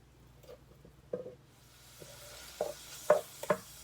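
Mild pork sausage sizzles in a pan, with a faint steady fry and a few scraping stirs and soft squishes as the meat is broken up, no talking.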